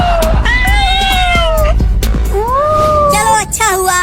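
Several cats meow and wail loudly and near, their rising and falling cries overlapping and repeating throughout, with brief shouting voices mixed in.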